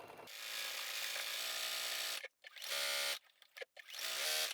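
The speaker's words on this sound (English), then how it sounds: "I'm just using the default stitch length on my Juki DX7" Juki DX7 sewing machine stitching a 1/4 inch seam on pre-quilted flannel at default stitch length, a steady close whirring run of about two seconds, then two shorter bursts with brief pauses.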